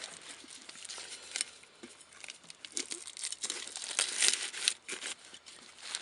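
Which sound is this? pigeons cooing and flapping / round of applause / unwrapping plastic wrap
unwrapping plastic wrap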